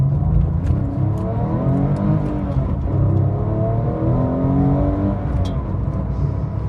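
A Porsche 911 996 GT3 Gen 2 flat-six engine, with an 8,200 rpm red line, drones steadily from inside the car as it pulls, kept well below the red line, loud and continuous with no voices.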